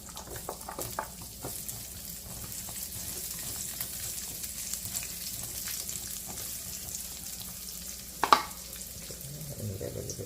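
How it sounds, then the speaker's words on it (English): Carrots sauteing in oil for a curry chicken and vegetables dish give a soft, steady frying sizzle with light stirring scrapes, quiet and close, and one sharper clatter near the end. "We're going to saute the veggies, starting with the carrots."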